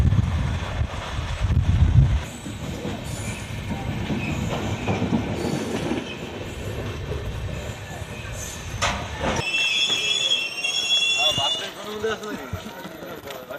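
The Padatik Express runs on rails toward Coochbehar, a loud continuous rumble with clickety-clack and a high wheel squeal near the end, while people talk under the noise.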